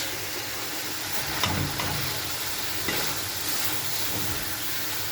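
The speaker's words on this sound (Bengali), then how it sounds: "এবার ঢাকনা দিয়ে বেশ কিছুক্ষণ কষিয়ে নেব মাংসটা" Chicken cooks for biryani in a pan, giving a soft, even sizzle and hiss close by with a few faint clanks. No one speaks.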